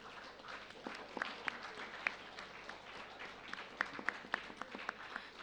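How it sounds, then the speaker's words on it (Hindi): Audience applause fills a school Hindi debate competition hall, honoring Class 9 participants; a steady, moderately distant wash of many hands clapping, with a few sharper individual claps standing out. "कक्षा 9वीं के प्रतिभागियों के लिए जोरदार तालियां हो जाएं।"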